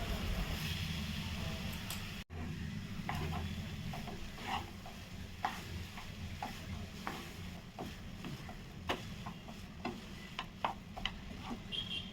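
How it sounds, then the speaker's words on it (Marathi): A spiced potato mixture for Maharashtrian batata vada is stirred in a pan, with soft scraping taps and clicks of the spoon against the metal over a steady sizzling bed, close and continuous. "आपण हे छान आता मिक्स करून घ्यायचं एकजीव होईपर्यंत"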